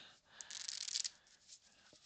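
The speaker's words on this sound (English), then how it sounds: "you can see I'm shuffling face up into face down like this" Playing cards riffled and shuffled face up into face down by hand during a close-up sleight-of-hand magic session; a soft, rapid papery flutter rises over about half a second, then lighter card handling follows, close and fairly quiet.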